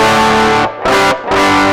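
Three loud, harsh, fizzy distorted guitar chords from a Tonex pedal amp capture with the cabinet bypassed, strummed in quick succession, each sustaining with a buzzy, raw edge and brief gaps between.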